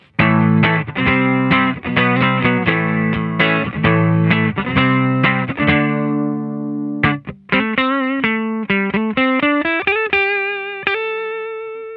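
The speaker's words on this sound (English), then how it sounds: "what comes out is pretty much a clean sound with a little bit of a filter applied to it" Electric guitar through a Madbean Runt distortion pedal set almost clean with a slight low-pass filter, playing loud chords and then single notes, close and warm, with no talking.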